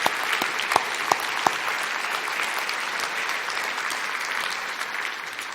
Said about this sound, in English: let's give him a round of applause and his staff who is here.